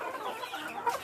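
Backyard chickens cluck softly and irregularly at close range, a few short murmuring calls with one sharper cluck near the end, no talk.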